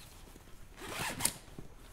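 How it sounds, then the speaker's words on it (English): A zipper on an Eberlestock Skycrane II backpack is pulled open in one quick, close rasping run, separating the little brother pack from the core pack, with quiet handling before and after. "I'm going to undo the zippers that hold the little brother pack into the core."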